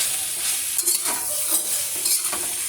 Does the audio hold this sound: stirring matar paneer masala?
yes